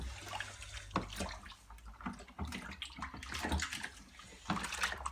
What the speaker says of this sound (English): And then in a minute we're going to top this up with cold water